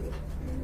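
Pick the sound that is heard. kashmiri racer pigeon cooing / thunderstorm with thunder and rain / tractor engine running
kashmiri racer pigeon cooing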